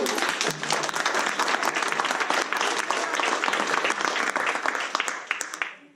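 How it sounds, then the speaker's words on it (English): A live audience at a winter class showcase gives a full round of applause, continuous dense clapping that carries on steadily and then thins and fades in the last second. "And give them a round of applause as we go"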